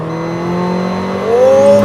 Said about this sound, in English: open the exhaust, couple of downshifts